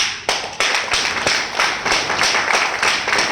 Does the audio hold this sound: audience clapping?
yes